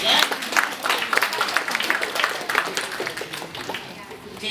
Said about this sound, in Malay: Tahniah dan tepuk tangan untuk diri sendiri ya.